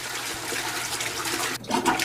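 A toilet flushing close by, a steady rushing of water for about a second and a half, then a brief dip and a renewed gurgling surge as it flushes again.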